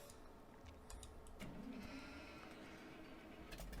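Sheep in the video game Farming Simulator 19 bleat a few times over a busy, noisy background, with a short rising bleat standing out near the middle.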